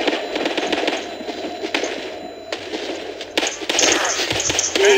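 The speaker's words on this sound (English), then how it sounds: "Oh, someone's shooting me." Gunfire in the video game Battlefield 2, with sharp cracks and bursts scattered over a continuous, busy battle din. Shots grow denser and louder toward the end.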